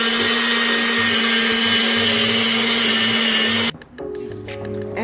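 A countertop blender whirs loudly and steadily, blending an all-purpose seasoning mix with paprika, dried rosemary and black pepper, then the motor cuts off and winds down near the end.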